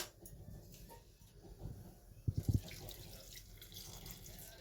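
Water splashes briefly into a pot of boiling green mangoes, a short run of gurgling pours over a low steady bubbling hiss.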